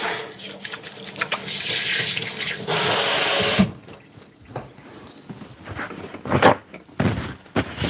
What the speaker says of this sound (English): Just get that in there and then wash my hands a bit.